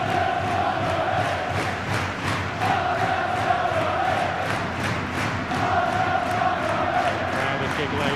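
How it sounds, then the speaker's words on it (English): A football crowd at Gigg Lane stadium during a Bury versus Shrewsbury Town play-off match keeps up steady roaring and chanting, with rhythmic surges throughout. "Crowd at Gig Lane playing their part"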